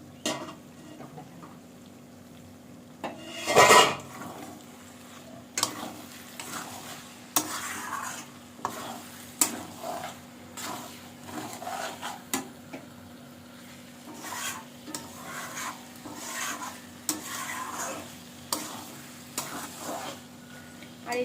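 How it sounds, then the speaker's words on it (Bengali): Ghugni is stirred in a pan once the lid comes off: a loud clank of the lid, then repeated scraping spoon strokes over a low, continuous sizzle, with short pauses between strokes. "দেখো আমি ঢাকনাটা খুলে আবার একটু নেড়ে নেবো"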